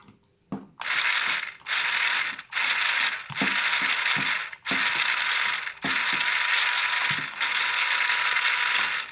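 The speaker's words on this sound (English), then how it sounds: "you can hear the motor priming, but this one's not spinning and it's not firing" An airsoft gun with a mag priming mod gives short mechanical ratcheting whirs from its motor after a magazine goes in, several close, loud bursts separated by brief pauses.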